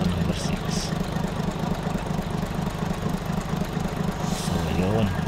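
A Mitsubishi 6D16 diesel engine idles steadily and close by, with its sixth cylinder misfiring and the engine running rough. Its low, uneven knock continues without a break while someone talks over it.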